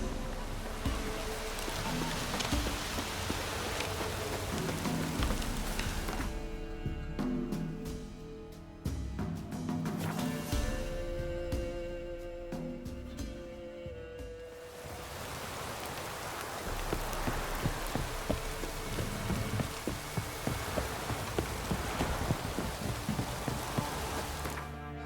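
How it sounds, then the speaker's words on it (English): Heavy rain pours down in The Witcher 3, a dense steady hiss of drops on surfaces that runs throughout, briefly joined by a shifting tonal layer in the middle before the downpour continues on its own. "This downpour's a bastard, it is."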